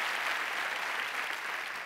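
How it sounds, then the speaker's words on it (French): A comedy-show audience applauds for Mamadou Gassama, a steady, even roar of many hands clapping at once, sustained and fairly distant throughout. "On peut applaudir pour lui, non?"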